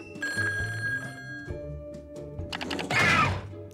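A telephone rings in a video game in a few bright repeated bursts over soft background game sounds, growing louder and busier toward the end.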